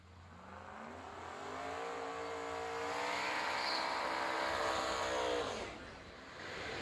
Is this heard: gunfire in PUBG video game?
no